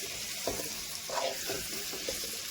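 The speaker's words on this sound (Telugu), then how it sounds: "ఫ్రై చేసుకున్న వంకాయలు దీంట్లో వేసేసి" Fried eggplant pieces sizzle in a pan with salt and chilli powder while a utensil stirs them in a few distinct scraping strokes.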